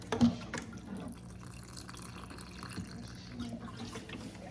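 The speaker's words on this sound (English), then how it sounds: "I'll always add just a little bit of water at a time" Water from a tap runs in small additions into a mixture, a soft splash near the start followed by a quieter, steady trickle and faint drips close by.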